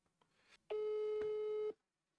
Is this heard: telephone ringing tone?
yes